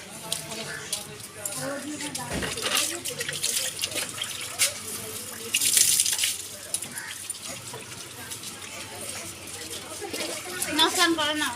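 Water splashes and gushes in bursts as it is poured over a child during a bath, with people talking throughout and a voice rising near the end.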